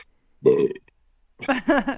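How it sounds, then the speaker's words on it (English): Burps after drinking a canned lime pilsner beer: two loud, close burps separated by a short silence, the second longer and more voiced. "There's the burp."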